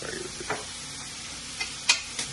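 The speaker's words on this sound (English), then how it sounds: "I'm going to saute that for a little bit." Diced vegetables for succotash sauté in a pan, a soft, even sizzle broken by a few light clicks and taps of a stirring utensil.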